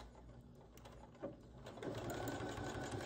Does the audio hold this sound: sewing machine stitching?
yes